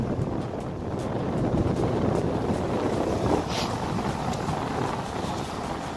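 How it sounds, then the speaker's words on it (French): Strong wind blowing at the seashore during shore fishing, a loud, continuous buffeting roar across the microphone with gusty swells and faint surf underneath, no voices. "on est super embêté par le vent"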